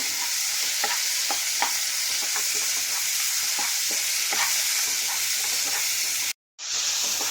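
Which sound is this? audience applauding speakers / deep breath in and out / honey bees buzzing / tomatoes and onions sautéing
tomatoes and onions sautéing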